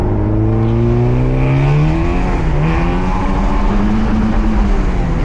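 A Porsche 968 CS fitted with a Scart exhaust accelerates hard, its engine note climbing loudly through the revs with a rising throaty drone heard from close by, no speech over it.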